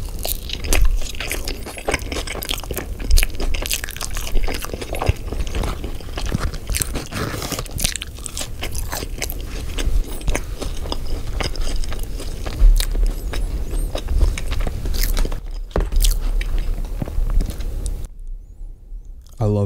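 Close, crisp crunching and chewing of In-N-Out animal style fries, a near-constant dense run of bites and mouth sounds over the whole stretch, with a brief pause near the end.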